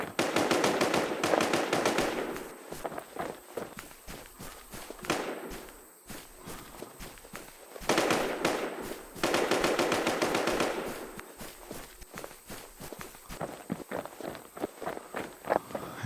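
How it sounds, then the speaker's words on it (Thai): Heavy machine-gun and rifle fire in the survival shooter Infestation The NewZ, loud bursts of rapid shots in clusters separated by short lulls, with running footsteps in between. "มันก็ยิงกันยับ"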